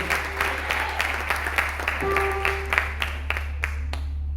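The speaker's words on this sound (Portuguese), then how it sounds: "Por isso, aplauda mais forte ao Senhor." Church congregation applauding during a Portuguese-language service, a steady patter of many hands over a constant low hum, with the clapping thinning toward the end.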